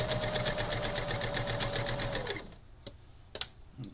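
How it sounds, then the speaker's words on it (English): Sewing machine stitching a straight line on a quilt, humming in a fast, even needle rhythm up close for about two seconds before it stops, leaving faint clicks and handling noises. "I'm going to just stitch along there."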